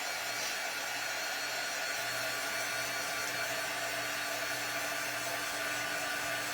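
A handheld blow dryer runs in one steady, fairly quiet whoosh from start to finish, with no voices over it.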